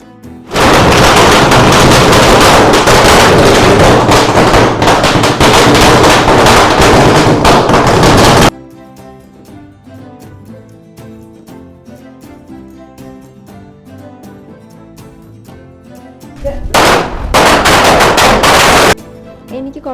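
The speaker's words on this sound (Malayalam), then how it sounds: "ഇപ്പോൾ നമ്മൾ വയ്ക്കാൻ പോകുന്നത് തൗസൻഡ് മാലയാണ് കേട്ടോ ആയിരം പടക്കങ്ങളുണ്ട് ആയിരം പടക്കത്തിൻ്റെ ഒരു മാലയാണ്" A Diwali string of a thousand firecrackers bursts in a loud, dense, rapid crackle for about eight seconds. A quieter stretch follows, and then another loud burst of crackling close by.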